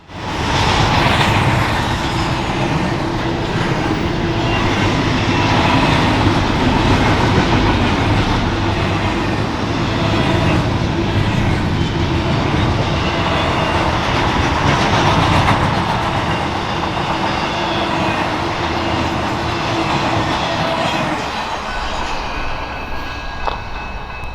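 An eastbound BNSF freight train climbing a grade in Arizona rumbles steadily and loudly for the whole stretch, heavy engine drone with rolling wheel noise, easing slightly near the end.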